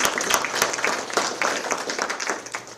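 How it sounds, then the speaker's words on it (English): An audience gives a round of applause at a Florida lieutenant governor's event in Panama City, with uneven, moderately loud clapping that rises and falls in scattered bursts. "So I just want a round of applause to the entire Rutherford High School community."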